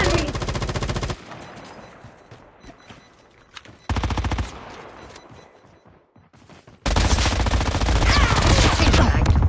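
Bursts of rapid automatic gunfire in a battle royale video game, loud close machine-gun volleys broken by quieter gaps with scattered shots and movement, then a long sustained burst at the end.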